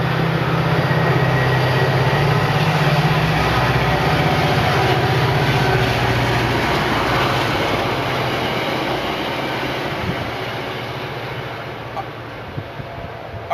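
A train rolls past close by, a loud sustained rumble with low droning hum and broad rushing noise that holds steady for most of the stretch, then slowly eases off toward the end.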